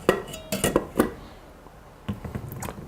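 Metal lid going onto a cooking pot of stuffed peppers and water, a few sharp clanks and clinks in quick succession, then a short pause and a softer rattle as it settles.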